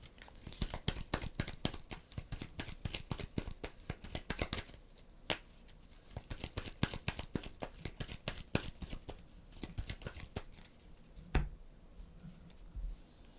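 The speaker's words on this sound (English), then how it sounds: "They're going to shuffle this up." Deck of cards for the Flatiron board game being shuffled close up, quiet rapid riffling crackles in repeated bursts with short pauses between them.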